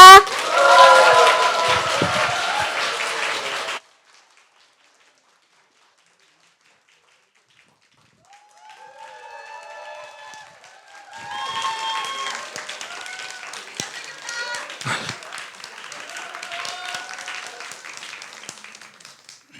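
Audience clapping welcomes a pansori singer and a partner, a short burst at first, then silence, then renewed clapping mixed with voices and musical tones building again.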